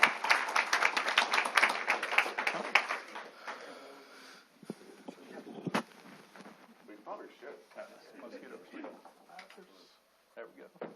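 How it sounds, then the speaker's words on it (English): Audience applause at a Wildomar city council meeting: a dense burst of clapping for about three seconds that fades into scattered claps and shuffling, with people talking in the room. "Another round of applause"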